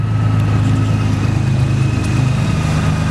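A 2003 Honda Goldwing GL1800 motor trike fitted with an aftermarket exhaust idles steadily nearby, a deep, even rumble that stays constant throughout with no voices.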